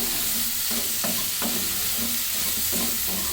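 Vegetables for a wedding-style mixed vegetable dish stir-fry in a pan with a steady, close sizzle, punctuated by a few sharp spatula scrapes and stirring clacks.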